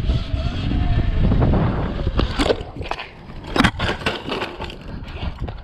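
A 72v Sur Ron stunt bike loops out of a wheelie and crashes, with a loud close rush of wind and motor noise followed by sharp impact clatters and scraping. The rear brake had lost its grip.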